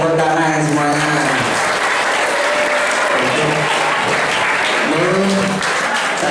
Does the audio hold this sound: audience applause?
yes